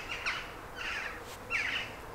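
Birds chirp in a field beside grazing cattle in rural East Sussex, three faint bursts of high twittering calls spaced across the moment over quiet outdoor background.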